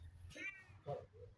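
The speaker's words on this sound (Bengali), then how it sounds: "ওই যে একটা বিড়াল" A cat near a rural Bangladeshi home meows twice, short close calls about half a second apart, with faint background noise and no talking.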